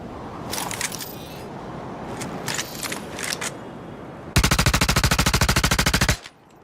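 Gunfire in the video game Star Citizen: a few scattered shots early on, then a long, loud, rapid automatic burst with an even rhythm that stops abruptly, with no talking.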